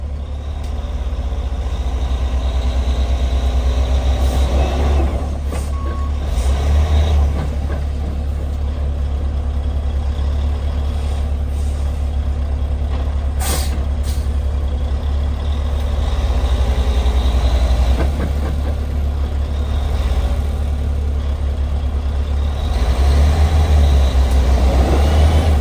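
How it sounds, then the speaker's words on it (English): Dump truck engine idling with a heavy, steady low rumble, punctuated by a few short sharp hisses of air brakes, loud and close throughout. "We got the other dump truck hooked up now."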